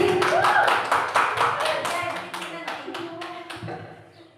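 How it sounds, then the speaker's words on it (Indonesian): A small group, seemingly a class or teachers' session, claps for a woman named Ibu Fitri, a burst of distinct hand claps that thins and fades over a few seconds. "Boleh tepuk tangan dong Ibu Fitri."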